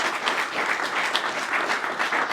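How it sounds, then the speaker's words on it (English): Steady, dense audience applause at a boxing event, a crowd clapping continuously and fairly loudly from start to finish. "Let's have a round of applause for Bam to fight still at this age."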